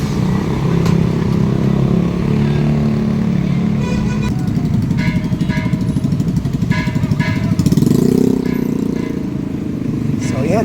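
Motorcycles ride past on a village street during New Year festivities, their open-pipe mufflers droning and revving near the microphone while horns toot, with people talking over the engine noise.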